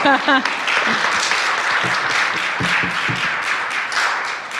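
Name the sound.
audience applause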